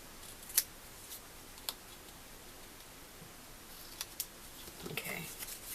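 Scissors trimming paper folder inserts for a Christmas craft project, a handful of crisp isolated snips spaced out over quiet room tone, close and fairly faint.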